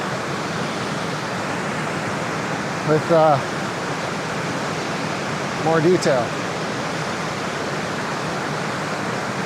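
West Creek Falls in Rocky Mountain National Park pours with a steady, broad rushing roar that fills the whole clip, and someone speaks briefly over it.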